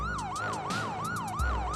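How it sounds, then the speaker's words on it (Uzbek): A cartoon siren wails in a rapid repeating up-and-down sweep, each cycle about a third of a second, with a low rumble beneath and a thump near the end. "Va birdan sirena ovozi eshitildi."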